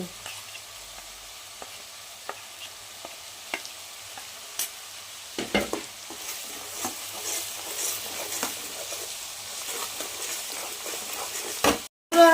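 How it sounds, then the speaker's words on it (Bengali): Masala of chili powder, ginger-garlic paste, onion paste and bay leaf is sautéed in a pan for a yogurt catla fish curry. Sparse spoon taps and scrapes give way to a growing sizzle, and a brief loud clatter comes at the end. "আমার মশলাটা লঙ্কার গুঁড়ো দিয়েছি, আদা রসুন বাটা দিয়েছি, পেঁয়াজ বাটা দিয়েছি, তেজপাতা দিয়েছি, দিয়ে আমি কষিয়ে নিচ্ছি ভালো করে।"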